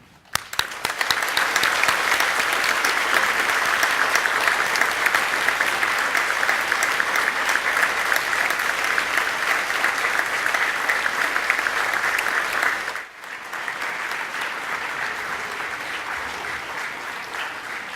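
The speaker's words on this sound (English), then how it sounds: "join with me in loudly applauding them for all of the support they have given you" Graduates at a Swinburne graduation ceremony loudly applaud their family and friends, a sustained, dense wall of clapping that briefly dips near the end and then resumes slightly softer.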